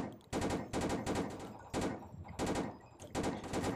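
Rapid bursts of automatic gunfire in the Roblox video game, several loud sustained volleys separated by short pauses, close and dominant with no talk.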